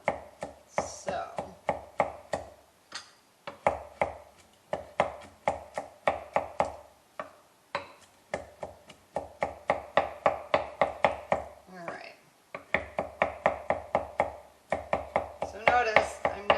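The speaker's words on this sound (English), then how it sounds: "we're just going to kind of coarsely chop through this" A chef knife chops coarsely on a cutting board in quick, crisp rhythmic bursts of knocks, pausing briefly between runs, close and clear with no talking.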